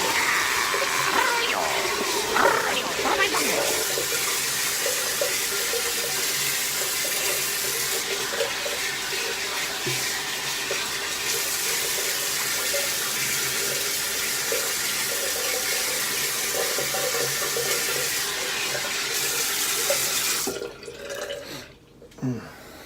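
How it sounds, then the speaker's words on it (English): Cold tap water runs steadily over a bar of handmade soap being rinsed, a loud continuous splashing rush that keeps up for about twenty seconds before cutting off and giving way to a few quieter drips and handling sounds. "Now we're gonna rinse one more time. It's gonna be a cold water."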